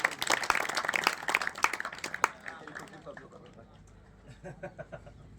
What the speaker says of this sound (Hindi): तालियों से अच्छा सा स्वागत कीजिए।